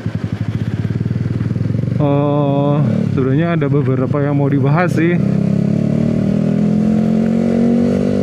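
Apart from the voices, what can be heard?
Yamaha R15 V3 motorcycle riding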